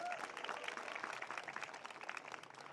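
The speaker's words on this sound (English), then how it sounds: "A round of applause for him." A graduation ceremony crowd gives a round of applause, steady dense clapping from a hall audience, fairly faint and distant, with no speech over it.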